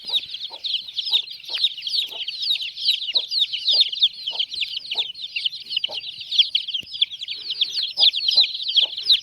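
Desi village hens cluck with their 21-day-old chicks at a low-cost poultry brooding setup, steady close clucking repeated every half second or so under a constant thick layer of high chick peeping.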